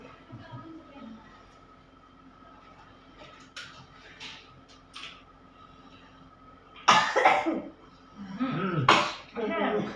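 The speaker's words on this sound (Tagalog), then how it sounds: "So may ubo kayo ngayon." Several harsh coughs burst out close by, two loud clusters near the end, over a quiet background hum with faint talking earlier.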